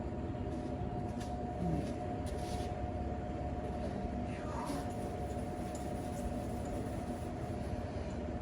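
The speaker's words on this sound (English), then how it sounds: "Sorry for the noise for the fan" Steady electric fan whirring continuously in a garage during hot-weather painting work on a 2004 Mustang door jamb, a broad constant drone with faint hum, no talk.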